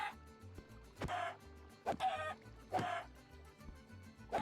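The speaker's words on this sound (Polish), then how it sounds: "To jest bufowany kurczak." Chicken clucking in Minecraft's Stoneblock 2 modpack: several short, clear game-sound clucks repeat at irregular intervals over a quiet background with faint low thumps.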